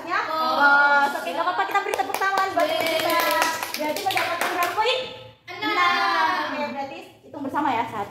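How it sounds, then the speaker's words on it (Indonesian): Schoolchildren in a classroom clap together in a burst of applause, mixed with kids' voices and excited chatter, pausing briefly before the clapping and cheering pick up again. "kita beri tepuk tangan buat kita"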